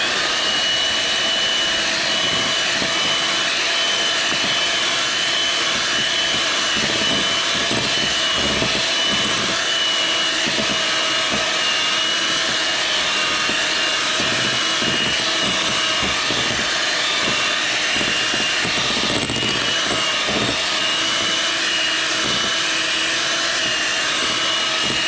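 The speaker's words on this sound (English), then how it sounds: "I'm using a electric whisk" An electric whisk mixes Yorkshire pudding batter with a loud, continuous motorized whine and roar that stays steady and close throughout. Small rattling bursts and knocks from the beaters in the bowl come through, and no one speaks.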